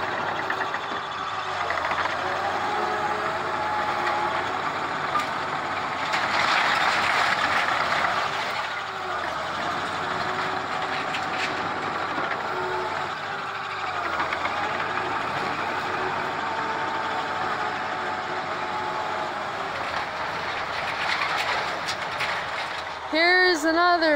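A large bulldozer works on a storm-destroyed shed, its diesel engine a continuous loud rumble that rises and falls with load over the whole stretch, with a short rising whine near the end.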